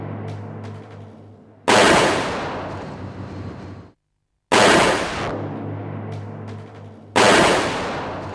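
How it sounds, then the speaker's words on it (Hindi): Three loud, sharp gunshot blasts in a TV drama's target practice, each followed by a long decaying echo, spaced a few seconds apart with a brief silence between. "Very good Aditi, very good shot. सारी गोलियां निशाने पर लगी है।"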